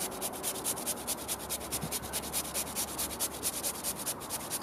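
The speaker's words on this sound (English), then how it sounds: "You can always fix it naturally, just peeling the potato like this" Potato being peeled over a pot of Slovak goulash, a steady rasping scrape repeating in quick regular strokes, close and fairly loud with no talking.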